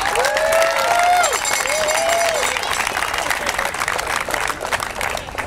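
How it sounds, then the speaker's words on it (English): A crowd applauds at a Friday night football game in Brevard during a swearing-in of Army recruits: a broad wash of clapping and cheering with a couple of rising whistles, strong at first, then tapering off. "Let's hear a round of applause."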